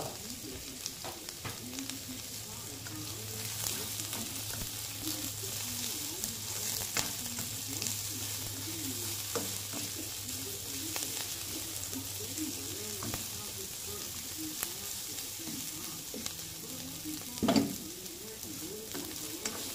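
Chili being sautéed in a frying pan, a steady close sizzle and crackle with occasional stirring clinks and a sharp knock near the end.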